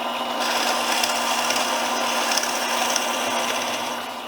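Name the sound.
drill press drilling wood with 1-inch bit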